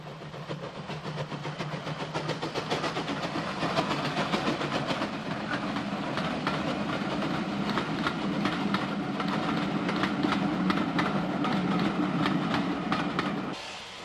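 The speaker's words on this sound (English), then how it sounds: "VS Class 440 number 210 Earn passes the works with the Cork to Belfast Enterprise." GNR VS Class 440 steam locomotive hauling the Cork to Belfast Enterprise passenger train past the Dundalk Works, a steady rolling rumble with rhythmic wheel clatter held at even loudness throughout.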